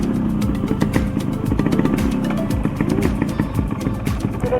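Yamaha RX motorcycle with a newly fitted silencer, its two-stroke engine idling and blipping in a rapid uneven putter, close and loud for the whole stretch.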